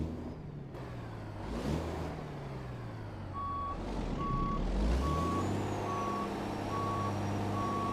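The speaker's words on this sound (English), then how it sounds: "This sounds like a modified stock SCS sound. It's the Kenworth." A Kenworth truck in a trucking simulator game with a modified stock SCS engine sound rumbles and revs up. A regular reversing beep pulses over the deep engine drone, and nobody talks.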